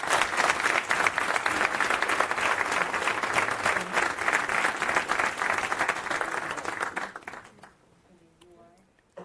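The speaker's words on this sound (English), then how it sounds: "I would like to ask for a round of applause for the team to get us to this point" Applause from a conference audience at a tech talk, loud dense clapping lasting several seconds, then tapering off into quiet room sound with a little speech at the end.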